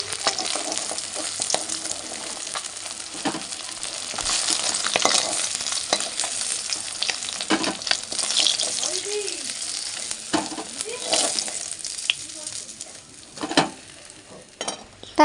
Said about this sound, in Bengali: মাছটাকে এখন চল লাল লাল করে ভেজে নিই।